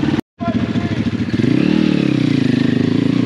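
A pit bike with a swapped 150cc engine runs loud and close, its buzzing note rising and falling unevenly as it sputters and skips, with a brief cut near the start.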